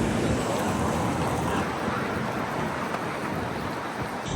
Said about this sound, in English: definitely raining. I was not expecting this.